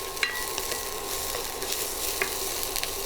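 Thinly sliced green beans sautéing in a pan, a loud continuous sizzle with scattered crackles and pops, close up and without talk.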